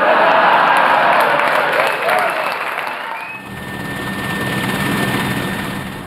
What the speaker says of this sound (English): as the Merlin helicopter winds its way over the harsh desert beneath